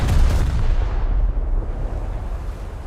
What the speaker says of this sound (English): Though it was to a torpedo and not heavy gunfire. So it's still an explosion, I guess.